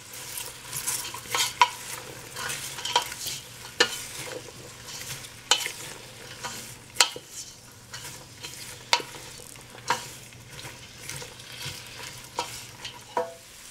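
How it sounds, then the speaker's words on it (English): Shredded cabbage cooks in a pot over a soft sizzle while a utensil stirs it in repeated scraping, clattering strokes. "now you cook for 2 to 3 minutes, just until the cabbage starts to wilt"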